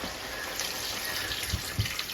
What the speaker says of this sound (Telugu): వాటర్ వేసుకోండి.